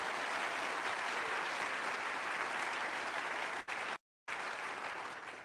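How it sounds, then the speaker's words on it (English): Audience at a NASA presentation applauds an astronaut's record-breaking stay in space, a steady, even wash of clapping from a crowd, interrupted by a short gap near the end. "We can clap for that."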